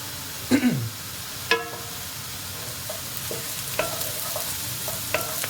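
Onions fry in a pan with a soft steady sizzle while a utensil scrapes and stirs in several distinct strokes, close and fairly quiet, with no talking.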